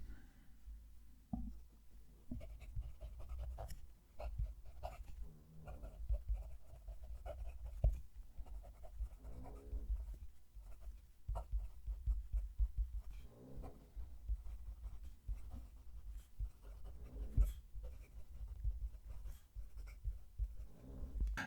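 Fountain pen nib scratching across paper with a Chromis Teal ink, soft, close, continuous strokes with small taps and pauses, faint and intimate with no talking.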